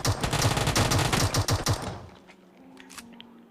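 Rapid automatic gunfire in PUBG Mobile as the player jumps and shoots, a loud dense burst of close shots lasting about two seconds, then cutting to faint game ambience.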